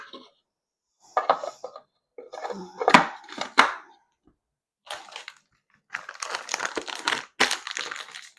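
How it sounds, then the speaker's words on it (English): Homemade dry laundry detergent ingredients being stirred and mixed in a container: scattered gritty scraping and crinkly rustling bursts with short pauses, then a denser stretch of continuous scraping near the end. "we got to mix it all together"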